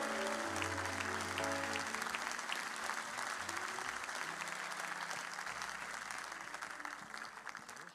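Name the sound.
congregation applauding and cheering to acclaim the Lord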